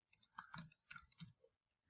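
Clicky keystrokes on a new computer keyboard in a quiet room, a quick burst of taps and clacks over about a second and a half, then a pause and one final click.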